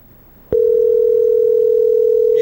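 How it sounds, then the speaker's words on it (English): A telephone line sounds its ringing tone on a call that goes unanswered, a loud steady electronic tone that starts abruptly after a click and holds unbroken. "Yeah, you like to hear the phone ring, viewers?"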